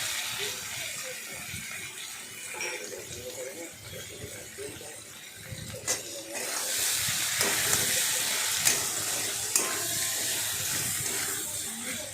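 Water spinach stems fry with salt and turmeric in a pan, a steady hiss and crackle that grows louder and brighter partway through, with faint clinks and scraping over the continuous sizzle.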